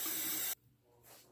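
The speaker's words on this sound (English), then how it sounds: "I'm just going to go real light and rinse the razor again." A safety razor, a Gem Micromatic, is rinsed under a running tap, giving a loud steady spray of water for about half a second before it cuts off, leaving faint room noise and a soft trickle afterward.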